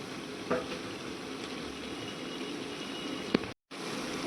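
Ginger and mint sauté in a pan on the stove, giving a steady, faint, close sizzle with a brief spoon clink and a moment of near silence near the end.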